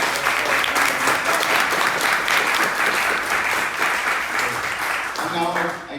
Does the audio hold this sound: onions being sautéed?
no